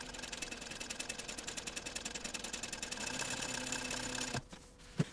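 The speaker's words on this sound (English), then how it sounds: "So I'm going to just go ahead and top stitch it along this edge here." A sewing machine top stitches along the edge of a wide fabric binding on a travel accessories bag, running steadily and close for about four seconds, then stopping, followed by a brief handling knock.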